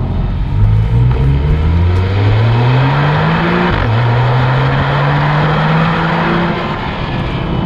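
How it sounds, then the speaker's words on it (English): A Porsche 911 C4S Cabriolet (997.2) accelerates hard from a standstill through third gear, its engine note climbing loudly through each gear with a brief dip at every shift, close and sustained. "We've gone from zero all the way to third gear, and we've just hit about 65 miles per hour"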